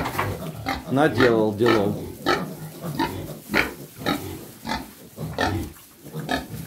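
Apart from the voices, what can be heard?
piglets grunting and squealing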